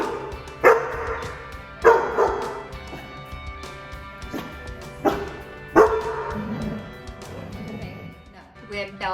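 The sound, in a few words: German Shepherd dog barking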